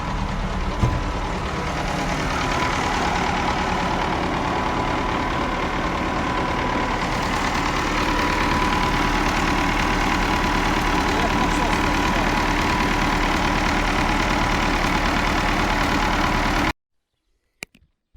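A vehicle engine idles just after a crankshaft replacement, a loud, steady, close rumble that runs without a break for about seventeen seconds before cutting off abruptly.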